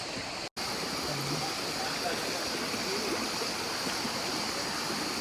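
Steady broadband rush of flowing stream water fills the clip, continuous and fairly close, with a brief dropout near the start, as someone wades through the stream toward a waterfall at Saklıkent, Turkey.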